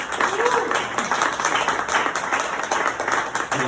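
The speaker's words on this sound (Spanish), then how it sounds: "Un aplauso." A seated audience at a novel launch in a cultural forum gives a short round of applause for a presenter, the clapping even and moderately close, continuing for a few seconds with faint voices underneath.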